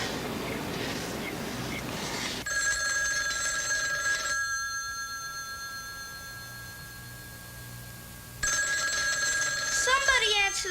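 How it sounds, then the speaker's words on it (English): Old bell telephone ringing indoors in a 1977 drama, loud metallic rings in two long bursts separated by a pause, with room noise and some voices around them. "Somebody answer the phone."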